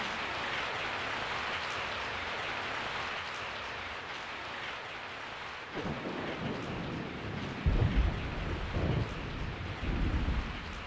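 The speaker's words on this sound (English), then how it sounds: "I woke up to the sound of falling rain." Rain falling steadily in the Resident Evil 3: Nemesis game on PSone, a continuous hiss, joined partway through by low rumbling thunder swelling in several rolls.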